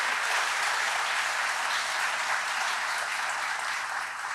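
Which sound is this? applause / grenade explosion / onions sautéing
applause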